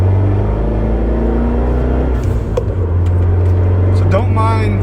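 A car with a Eurocompulsion Phase 3 tune driving in heavy heat and traffic, a steady low engine drone heard from inside the cabin, with a voice speaking over it.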